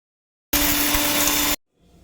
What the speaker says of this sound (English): Once cooled down completely, transfer it to a mixer grinder.